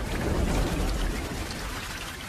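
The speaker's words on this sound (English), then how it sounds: "With the downpour comes upheaval." Heavy monsoon downpour in Ranthambore, India, a steady dense hiss of rain pounding surfaces, loud and even throughout with a faint low rumble underneath, no voices.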